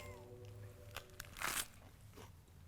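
A bite into a crunchy-crusted Impossible Burger gives a few short crisp crunches close up, the loudest crackle in the middle, with quiet chewing after.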